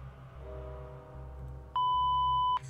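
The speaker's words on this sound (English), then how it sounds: "Obscenities were covered by another beep." A single loud, steady censor beep lasting under a second covers obscenities in a Tiny Bunny game recap, sounding over a quiet low background hum.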